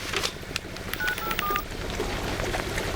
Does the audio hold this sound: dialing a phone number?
yes